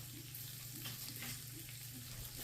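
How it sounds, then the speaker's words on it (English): Garlic and butter sautéing in a pan for meatloaf, a soft steady sizzle with gentle stirring scrapes and faint tossing sounds, quiet and close with no talking. "So we just want to get that all tossed around, get that butter in there, melting around a little bit."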